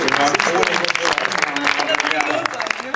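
Audience applause rolls through alongside lively chatter and voices, a dense mix of clapping and talk at close range.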